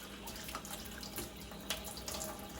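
Warm water runs steadily from a sink tap while a silicone tumbler is scrubbed and rinsed by hand, a soft continuous splash with light clinks and rubbing close by.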